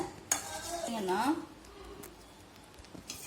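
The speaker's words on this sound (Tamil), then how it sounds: "இதை கைவிடாமல் சிம்மில், அடுப்பை வந்து சிம்மில் வச்சு கிளறிட்டே இருங்க" A utensil scrapes and clinks in a pan while homemade chocolate syrup is stirred over a low flame, heard as close, soft stirring sounds with a brief voice passing over them.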